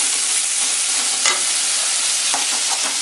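Chopped tomatoes sautéing in a pan for a roasted brinjal chutney, a steady loud sizzle throughout with a couple of sharp scrape or stir clicks from a spoon, no voices.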